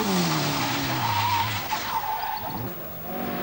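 Toyota rally car pulling away from a stage start, engine roaring with tire squeal and skidding, the sound fading quickly as it leaves.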